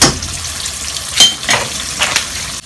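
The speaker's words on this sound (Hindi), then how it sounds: "इन सब चीज़ों को डाल के हम भून लेंगे" Ginger-garlic paste, turmeric and red chilli powder sizzle loudly in a hot karahi for Kashmiri keema, with a steady frying hiss broken by several stirring scrapes of a spoon against the pan.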